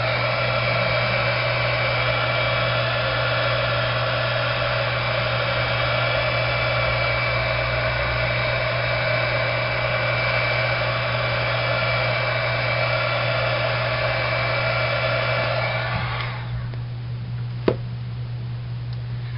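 An embossing heat tool blows hot air over freshly stamped ink, a loud, steady whirring hum held close for about sixteen seconds before it cuts off, leaving quiet room tone and a single small tap.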